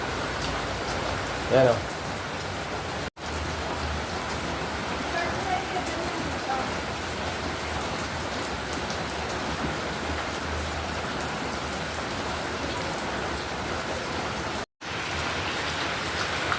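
Steady rain falls outdoors with a constant hiss of drops hitting surfaces, close and continuous throughout, while people talk briefly over it.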